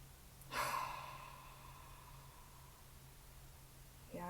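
A slow breathing exercise: one long, audible breath, likely an exhale, starts sharply and fades away over a couple of seconds. A quiet pause follows before the next breath begins at the end, all close and without speech.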